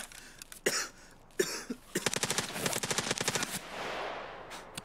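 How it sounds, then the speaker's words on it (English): Video game gunfire: scattered single shots, then a rapid automatic burst of evenly spaced cracks, fairly close, followed by a softer noisy tail. "I hear shooting."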